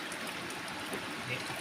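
Faint, steady trickle and babble of creek water in a barangay stream, continuous and fairly distant, with no voices.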